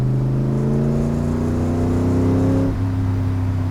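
A Ford GT40 engine roars loudly and revs upward steadily, then eases off as the throttle lifts, with no voices.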